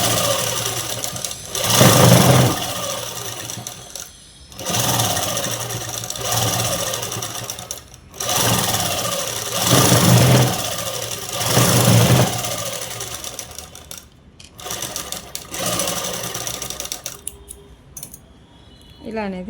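A sewing machine stitching a child's frock in bursts of a few seconds each, stopping and restarting with a steady mechanical whir, close and fairly loud, while a voice talks over parts of it.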